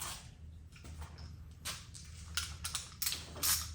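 A cheap 1/4-inch drive ratchet from a budget tool kit clicks through a series of faint, close, irregular ratcheting ticks that build toward the end, with no talk over them.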